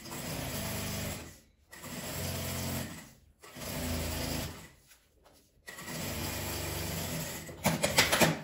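A sewing machine stitching a seam on a fabric-scrap patchwork document holder, running in steady whirring bursts of a second or more, stopping and restarting several times, close and alone.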